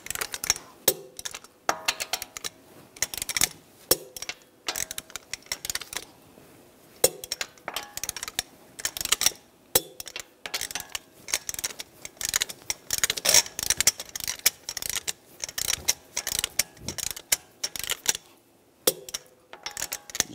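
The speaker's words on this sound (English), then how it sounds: "Now we're going to torque the lug bolts to 92 foot-pounds in a cross pattern to tighten the wheel down" A torque wrench tightens the lug bolts on a 2013-2016 Dodge Dart wheel in a cross pattern, giving dense bursts of sharp metallic clicks and ratcheting over about twenty seconds, with a few brief pauses.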